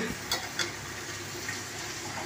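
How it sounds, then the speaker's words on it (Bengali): Hot water is poured in a small amount into a cooking mixture, giving a soft, steady watery rush with a couple of brief splashy bursts, fairly quiet and with no talk. "গরম জলটি এর মধ্যে অল্প পরিমাণে দিচ্ছি এখন।"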